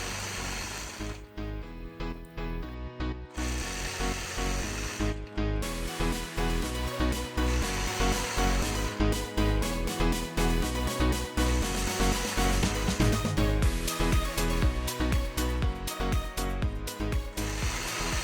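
A quilting sewing machine stitching a point-to-point curve back across patchwork blocks, a fast steady mechanical whir and needle chatter running continuously with brief pauses near the start, close by and with no talking.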